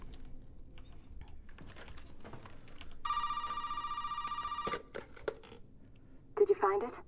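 Telephone ringing in the video game Resident Evil 7, a single loud electronic ring lasting under two seconds amid clicking and shuffling game sounds, with a short higher electronic tone near the end.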